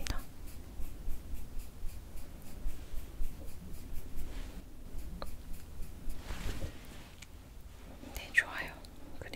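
Soft makeup brush strokes dabbing and sweeping eyeshadow across the eye, close and quiet in an ASMR setting, with gentle whispered Korean talk over the faint repeated brushing.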